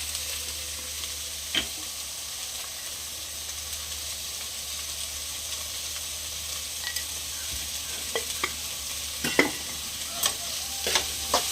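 Green chili and capsicum fry with onion in a pan, making a soft, steady sizzle with occasional sharp pops and scrapes that grow more frequent toward the end.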